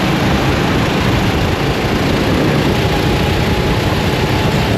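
A racing kart engine at full effort during a race, a loud, dense, unbroken buzzing roar heard up close with no pauses and no voices.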